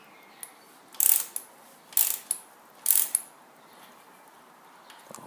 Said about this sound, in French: vous pouvez serrer les vis de droite